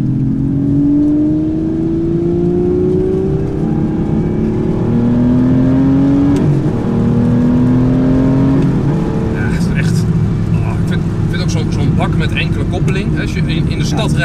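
Aston Martin V12 Vantage S pulling hard through the gears, a loud close engine note rising in pitch, dropping at each shift and climbing again, while people talk over the roar.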